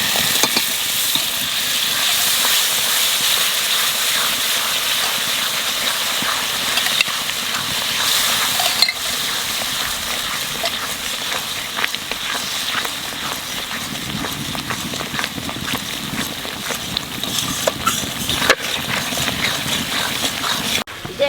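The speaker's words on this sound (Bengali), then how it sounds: "মশলাটা ভালো করে ভাজে নিছি।" Spice paste fries in a pan for a Bengali katla kalia fish curry, a steady close sizzle with stirring scrapes and a shift in the frying sound as yogurt is added.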